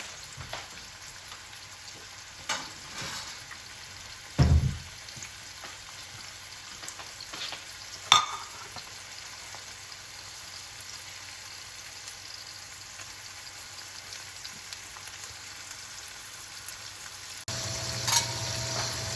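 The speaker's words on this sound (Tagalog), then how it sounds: "Yan lang po natin siya hanggang maluto po ang red onion." Red onion frying in a pan for Filipino bistek, a quiet steady sizzle that runs throughout, broken by a few louder knocks and stirring clatters.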